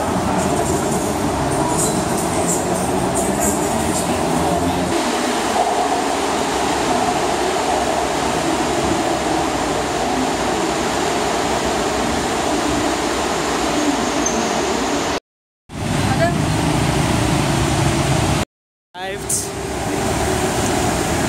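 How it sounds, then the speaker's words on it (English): Ride inside a Bangkok sky train carriage, with a loud, continuous rumble and rolling track noise throughout, a steady mid-pitched hum, and two brief dropouts near the end. "We're actually riding the sky train."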